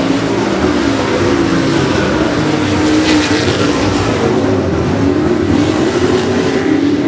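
Stock cars race at 105 Speedway, a dense, loud, continuous roar of several engines running wheel to wheel, with a sustained droning pitch and the crowd of motors swelling slightly as they pass.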